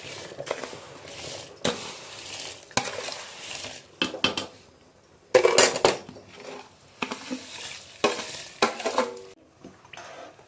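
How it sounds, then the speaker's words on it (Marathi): Rice is stirred in a pot of boiling water for village-style biryani, with irregular metal scrapes and clinks of a spoon against the pot coming in bursts, close and fairly loud, over a quiet bubbling background. "आता अजून एकदा हलवून घेऊ पूर्णपणे"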